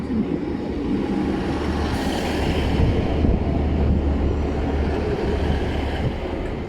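A Class 150 passenger train rumbles at a station, a steady, loud low roar with wind buffeting the microphone and faint clickety-clack, continuous and close with no talk.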